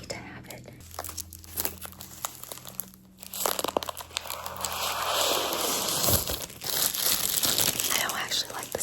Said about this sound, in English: I don't actually like the sound of plastic, so I just crunch it and throw it away.